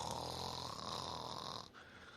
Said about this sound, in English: that might have been a snoring sound